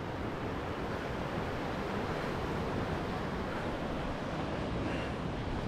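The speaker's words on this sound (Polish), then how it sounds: "Te fale. Tu morze jest od razu." Sea waves wash steadily against the Croatian shore near Primošten, a broad continuous surf roar with some wind rumble, close and even throughout with no talking.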